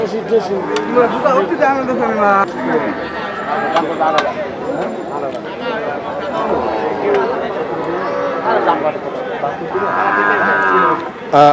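Cattle moo repeatedly at a busy rural cattle market, the calls rising over a steady crowd murmur, with someone talking close by throughout.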